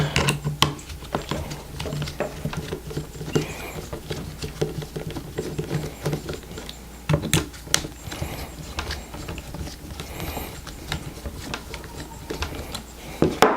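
Screws backed out of the rail on a Glock rifle barrel setup, a patter of small close metallic clicks and ratcheting scrapes with a few sharper knocks, no talking.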